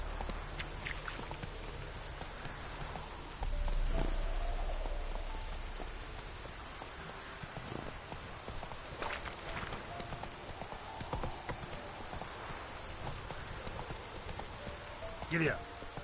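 A horse trotting through rain in The Witcher 3, with rhythmic hoofbeats over steady rainfall on the ground and a spoken voice now and then.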